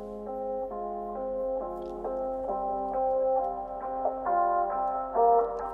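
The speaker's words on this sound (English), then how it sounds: "So we've got this kind of telephone EQ effect at the beginning here." Lo-fi music sample in an emo rap beat, with a thin telephone-style EQ filtering away the lows and highs so stepping melodic notes sound boxy and narrow, playing alone with no talk.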